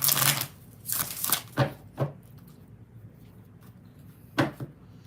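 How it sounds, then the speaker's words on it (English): Tarot cards being shuffled by hand, a handful of quick riffling bursts with short pauses between them, close and fairly crisp against a quiet room. "We're going to do 5 shuffles and see what's going on with Gideon."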